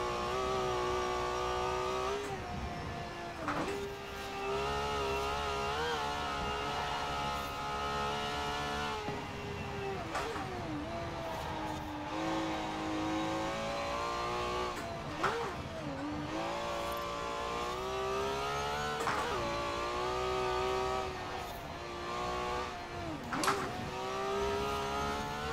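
Ferrari 512 S racing engine in Forza Horizon 4, screaming at high revs with rapid gear shifts producing repeated pitch drops and climbs, continuous and prominent with no voices.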